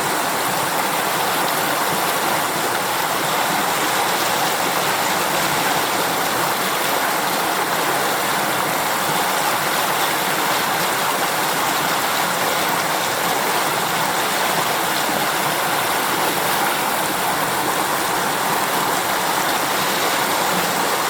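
River rapids on the Russian River in Alaska roar in a loud, unbroken rush of whitewater, dense and steady throughout with no voices.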